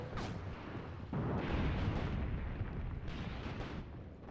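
Soviet WW2 artillery bombarding German attackers in a video game, heavy rumbling blasts rolling one into another with a continuous low roar, loud and near.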